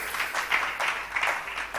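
Church congregation applauding a visiting pastor, a moderate wash of clapping with rhythmic swells, fairly close and steady throughout.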